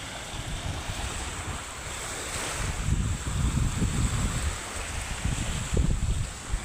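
Ocean waves at high tide wash onto a beach at Tigbuan, Iloilo, a continuous rolling surf with low rumbling swells and wind noise buffeting the microphone.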